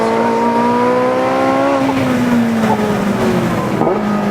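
A Porsche 918 Spyder drives hard on a race track, its engine a loud, close, continuous drone whose pitch sweeps slowly downward as it runs without speech.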